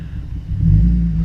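A car engine, a Subaru Impreza or Holden Commodore fitted with exhaust spacers, gives a short, deep rumbling rev that swells midway and holds, close and loud, with no talking.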